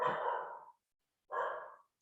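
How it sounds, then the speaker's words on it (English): A puppy gives two drawn-out, high whining yelps separated by a short pause. The cries are fairly faint, and no speech is heard over them. "I don't know why my puppy is screaming."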